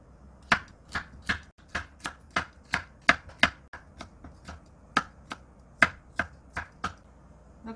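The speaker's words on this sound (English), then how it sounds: "The carrot, for finely chopped, we have to slice and other side and chop it." A knife finely chopping a carrot on a cutting board, with about twenty crisp, close chops in a steady rhythm and short pauses between them, heard on its own.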